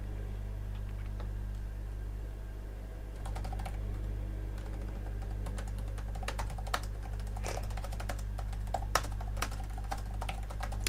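Soft, quick keystrokes tap on a computer keyboard in bursts that pick up over a low steady hum, close and quiet, in a softly spoken travel agent role play.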